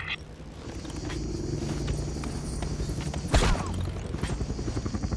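Helicopters in the video game Just Cause 2 give a steady rotor and engine drone under gameplay noise, with a sharp impact burst partway through and a rapid chopping pulse near the end.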